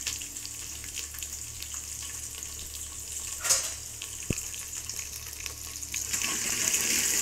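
Onions, dried red chillies and curry leaves fry in a pan with a constant soft sizzle, broken by a brief stirring scrape and a single sharp tap, the hiss swelling slightly toward the end.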